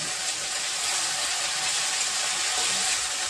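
Spice paste fries in a hot pan with a constant, even hiss and sizzle, close and fairly loud, with no voices over it, while it cooks down for a potato and pangas fish curry.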